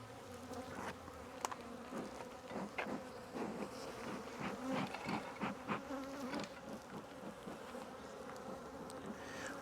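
Honey bees fill a hive box with a dense, continuous buzzing drone, close and steady, with a few faint knocks mixed in.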